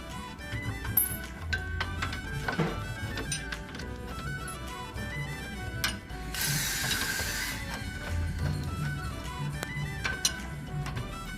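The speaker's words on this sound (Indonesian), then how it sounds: "Kita lepaskan dua baut ini." A ratchet wrench loosening bolts on an ARB bumper, rapid clicking pawl sounds and metallic tool handling running throughout at a modest level, with a brief hissy burst partway through.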